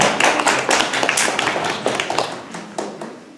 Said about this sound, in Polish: duże brawa dla Pani Alinki jeszcze raz